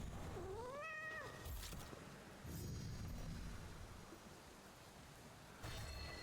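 A cat meows once in the video game Hades 2, a short rising-and-falling cry near the start, followed by steady game ambience with soft background noise and occasional bright chimes.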